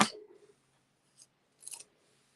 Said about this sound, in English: And just snip that just a bit.